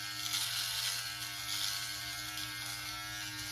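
A Yabife beard trimmer running steadily, a faint, even electric buzz with a constant motor hum and no breaks or talking.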